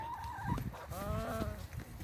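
Backyard chickens clucking inside a hen house, a few hens making close, overlapping clucks and drawn-out calls with steady barnyard background.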